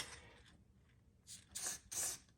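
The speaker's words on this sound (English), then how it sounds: "Just hit it with a little bit of PTFE spray and it'll plug right in." Several short hissing bursts from an aerosol can of PTFE spray on car wheel bearing parts, each growing slightly longer, in an otherwise quiet setting.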